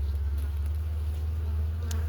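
Honeybees hum steadily at an open hive colony with a young unmated queen, a dense continuous drone heard close up and alone, with no talk over it.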